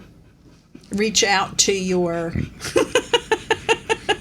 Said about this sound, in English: That panting dog sounds like a handsaw going back